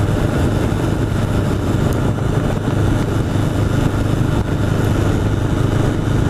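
A 1981 Honda CB750 Custom motorcycle engine running steadily while riding, a loud continuous low rumble with wind noise and no talking, on back roads in East Hampton, NY.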